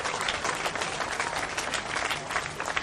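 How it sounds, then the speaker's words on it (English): A crowd at an SDA political rally in Pasir Ris Park breaks into steady, dense applause, many hands clapping together at a loud, even level for the whole stretch with no pause. "Let's give them a big round of applause for joining this family"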